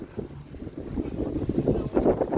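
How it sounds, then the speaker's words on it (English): Gusty outdoor wind buffets the microphone in uneven rumbling bursts, fairly close and steady, with no clear voices over it. "It's kind of windy."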